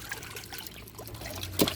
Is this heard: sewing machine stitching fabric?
no